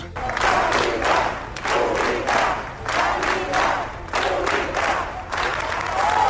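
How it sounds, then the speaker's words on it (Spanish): Shouting and applause from a crowd of protesters outside a health centre in Madrid, a loud, continuous roar of clapping and cries rising and falling in waves. "Estos son los gritos y aplausos esta tarde-noche ante un centro de salud de Madrid"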